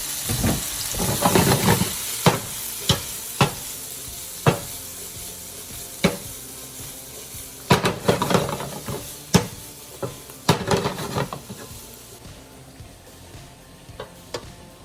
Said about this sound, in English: I'm gonna give peas a quick saute.